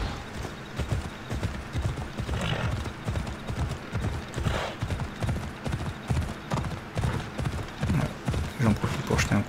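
Horse hooves clip-clop in a steady, close rhythm as the horse climbs a slope in Assassin's Creed Odyssey, with game ambience and a faint whinny in the background.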